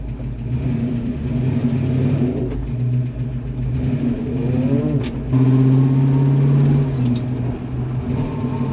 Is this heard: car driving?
yes